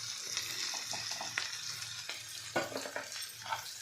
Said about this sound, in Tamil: வெங்காயம் நல்லா போட்டு வதக்குங்க